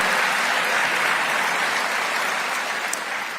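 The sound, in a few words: audience applause at a speech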